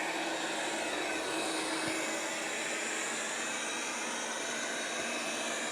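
A Dreame L10s Pro Ultra Heat robot vacuum runs with a steady, unbroken whirring hiss from its motor and suction, moderately quiet and close, with no talking.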